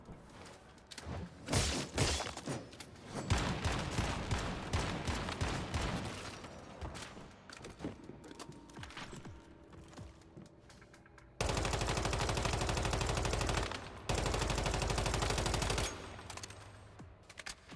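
Gunfire from a new weapon in the survival shooter Once Human, with dense rapid automatic bursts that pound close and loud, followed later by two long sustained blasts of continuous fire.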